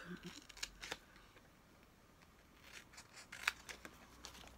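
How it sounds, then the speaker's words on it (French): Small scissors snip out a tiny paper doily for a miniature scrapbooking project, giving a few sharp, quiet clicks and cuts spaced apart with soft handling noise between. "Donc je vais découper. Hein. Donc je le découpe."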